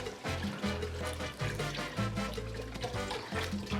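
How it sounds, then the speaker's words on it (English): Vegetable stock poured steadily into a soup pot, a continuous close liquid gush and trickle with no pauses. "So I'm pouring in the vegetable stock."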